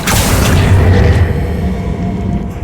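Incendio fire spell cast in the video game Hogwarts Legacy, a single loud whooshing boom that swells at once and then fades into a roaring, crackling tail, with no talk.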